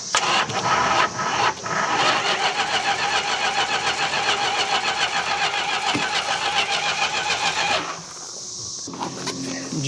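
A forgotten 1971 Plymouth Roadrunner cranks loudly for several seconds, the starter chugging in a steady rapid rhythm until it drops away near the end with a brief sputter, recorded close by.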